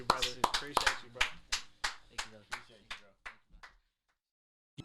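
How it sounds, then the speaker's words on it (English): A small audience claps for Councilman Mohamed Abdi, about a dozen crisp, distinct claps in an even rhythm that gradually soften and slow before stopping, leaving near silence with one last faint tap. "Can we get a round of applause?"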